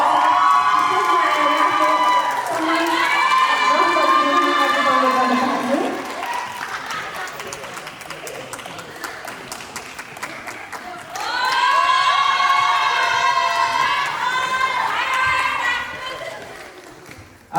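Audience at a group dance competition in Tokyo cheering and shouting loudly, dipping to scattered clapping midway before a second big burst of cheers, with an announcer's voice heard over the crowd.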